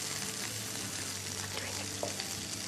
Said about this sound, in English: Keep stirring it until the vegetables tend to turn slightly brown from the corners